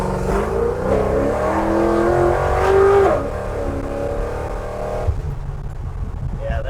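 A 1982 square body truck, custom built, accelerates hard with tires spinning; a loud, rising engine roar climbs in pitch for several seconds, then drops to a lower rumble as it eases off, with voices talking over it.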